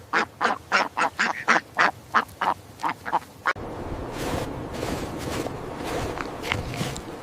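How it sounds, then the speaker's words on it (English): A duck quacks in a quick, loud series of about a dozen evenly spaced calls close by, then the calling stops and a steady wash of softer, noisier sound takes over. "This is a duck."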